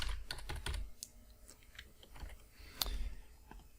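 Typing on a computer keyboard, a close, quiet run of irregular key clicks and taps with short pauses between bursts.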